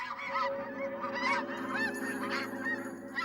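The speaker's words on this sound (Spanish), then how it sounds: "las aves migran" Migrating birds, goose-like, honk continuously in a dense overlapping chorus, loud and fairly close, with no talking.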